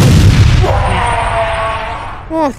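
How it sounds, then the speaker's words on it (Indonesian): A deep boom from an explosion in a One Punch Man anime scene, a loud low burst at the start that rumbles and fades, followed by a short voice-like sound near the end. "Dan Sludge Jellyfish meledak guys"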